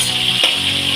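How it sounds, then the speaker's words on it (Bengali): Shrimp fry in hot oil in a pan for a mustard shrimp dish, giving a dense, close, steady sizzling hiss with a single soft knock partway through, no talking. "চিংড়ি মাছ খুব বেশি ভাজা প্রয়োজন নেই, একটু পিস করে ভাজলেই হয়ে যায়"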